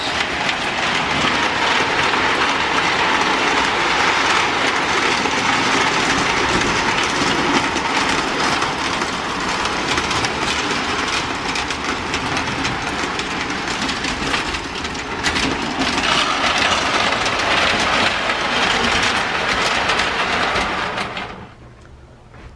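A small train rumbles steadily along a track with a continuous clattering whir, loud and close, then cuts out abruptly near the end.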